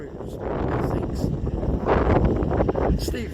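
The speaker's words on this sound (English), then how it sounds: "Very, very windy" Strong wind buffets the microphone on a canal boat, a loud continuous roar with gusting surges throughout the short stretch.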